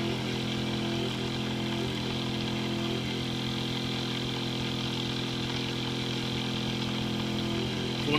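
A Bedini motor runs steadily at about 2,500 RPM, giving a continuous, even electric whine and buzz with a stable tone and no break, close and alone.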